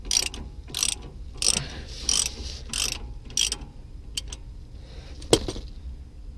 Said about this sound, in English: I'm gonna go ahead and loosen this one off. This is an 18 millimeter socket.